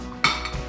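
A spoon knocks and scrapes against a pot while stirring Korean army stew, a couple of quick close metallic clinks within a brief moment, no voices.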